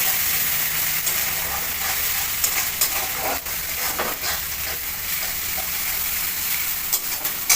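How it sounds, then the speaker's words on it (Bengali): Ginger and garlic paste fries in a pan for chicken biryani, a loud, steady sizzle and hiss with scraping stirs and occasional spatters throughout. "এবার রসুন বাটাটা দিয়ে দিচ্ছি"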